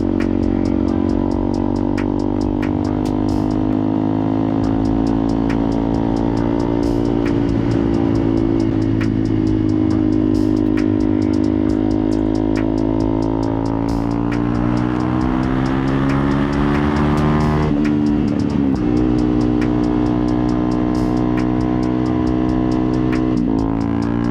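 A Honda CRF250L motorcycle rides along local city roads, its engine loud and close with a steady buzzing drone that shifts in pitch as the bike eases off and slows, with no talk over it.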